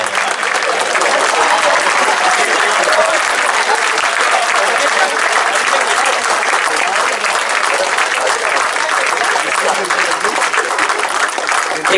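Sustained audience applause fills a comedy show hall, steady and loud for the whole stretch with no break, a dense wash of many hands clapping at once.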